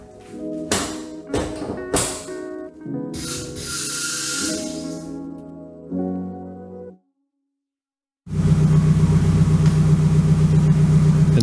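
A Nissan S15 in a garage being lowered: a series of sharp hissing bursts and clunks, a sustained whine, a brief silence, then a steady loud hum runs to the end.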